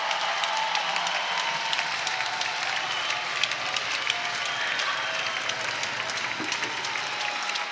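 A softball stadium crowd at an Arkansas vs Oklahoma college game applauds a home run, a dense sustained roar of clapping and cheering from many fans on their feet, loud and continuous.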